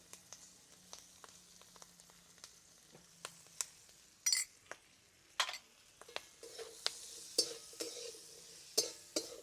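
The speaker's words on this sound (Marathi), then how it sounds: "मिरच्या आपल्याला थोडंसं नरम होईपर्यंत परतून घ्यायच्या" Green chillies saute in oil in a pan, a quiet low sizzle broken by a series of sharp clicks and scrapes as they are stirred.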